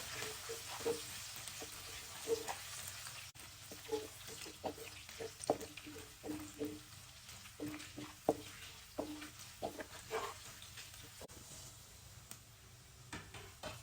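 Ginger and garlic frying in a clay pot are stirred in repeated scraping strokes, a rhythmic series of soft knocks and scrapes over a low sizzle, heard up close and without speech.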